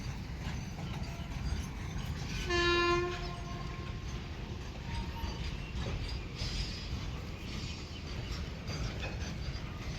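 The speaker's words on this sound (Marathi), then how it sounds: "मोठी ट्रेन आहे वाटतं." A large train passing on railway tracks sounds a brief, loud horn blast early on, then a steady low rumble and rolling rattle of the cars continue at moderate distance for the rest of the stretch, with no talk.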